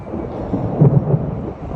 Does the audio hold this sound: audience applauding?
no